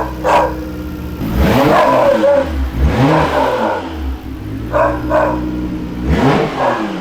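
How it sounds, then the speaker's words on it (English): A Nissan R32 GTR engine, long abandoned and just brought back to life, idles roughly and revs up in several loud, rising bursts, close by, with no talk over it. "this motor sounds fucking fine"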